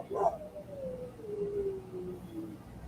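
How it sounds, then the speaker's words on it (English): A hound dog lets out a single long, drawn-out howl, starting with a sharp yip and then sliding slowly downward in pitch for over two seconds, moderately close against a faint background hum. "Isn't that hound dog?"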